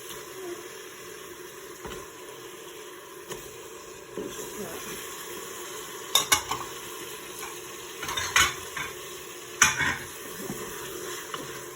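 Beef for couscous is laid into a spiced sauce in a pan and stirred, giving a gentle sizzle under occasional scraping clicks of a utensil against the pan, with brief speech.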